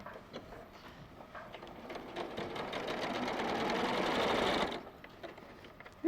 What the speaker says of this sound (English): Just going to sew those 2 bits together